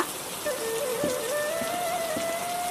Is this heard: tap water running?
no